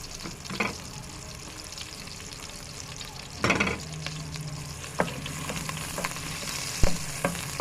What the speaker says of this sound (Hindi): बस ऑयल गर्म हो गया है हमारा। अब इसके अंदर हम प्याज डाल देंगे।